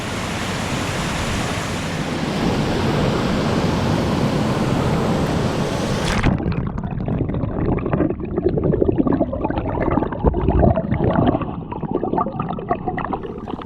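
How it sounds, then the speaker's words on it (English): A waterfall's rushing water roars loudly and continuously, then drops to a quieter, rumbling wash after an abrupt change partway through. "I don't know if you could hear what I was saying out there because of the water noise"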